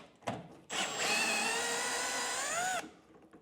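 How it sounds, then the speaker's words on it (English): A small powered nut driver spins out screws during a kitchen upgrade, giving one steady whine of about two seconds with a rising pitch, close by and moderately quiet, with no talk. "So we're gonna go ahead and remove these screws."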